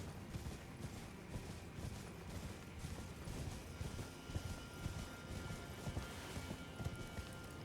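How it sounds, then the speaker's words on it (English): A horse galloping in the video game Elden Ring, steady rhythmic hoofbeats thudding along with a faint mechanical game background, quiet and without talk. "I can maybe use the horse."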